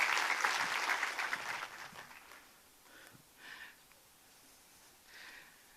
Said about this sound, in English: So a round of applause for